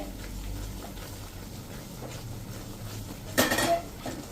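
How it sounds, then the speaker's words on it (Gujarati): Besan mesub mixture with ghee being stirred in a pan over medium flame: a low steady scraping murmur, then one brief louder clatter of a spoon against the pan near the end, close by. "તો આપણે થોડુંક ઘી નાખશું અને એને હલાવતા જ રહેશું મીડિયમ ફ્લેમ ઉપર આ રીતે."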